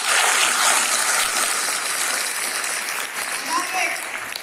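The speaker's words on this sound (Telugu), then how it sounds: "గట్టిగా చప్పట్లు కొట్టండి" An audience claps at a government women and child welfare event for National Nutrition Month. The dense, continuous applause is loud at first and eases slightly toward the end.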